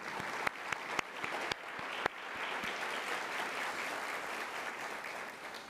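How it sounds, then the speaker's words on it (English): Audience applause for a panel of speakers at an education conference session on TRIO programs: a few sharp early claps swell into steady, even clapping from a sizable crowd that carries on evenly to the end. "A round of applause for them."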